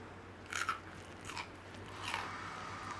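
Someone bites into and crunches a crispy, crunchy corn fritter served with smoky beans, giving three loud, close crisp crunches spaced through the bite and continued chewing at a steady, moderate level.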